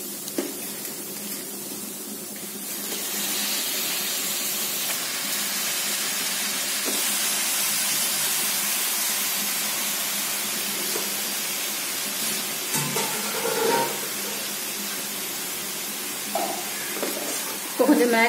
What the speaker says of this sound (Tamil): இப்ப நம்ம இஞ்சி பூண்டு பேஸ்ட் வணங்கினதுக்கு அப்புறம் இந்த சிக்கனை போட்டுக்கலாம்.